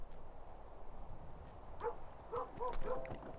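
A dog barks a few times in the video game Kingdom: New Lands, in short yips near the end, faint over a quiet ambient background.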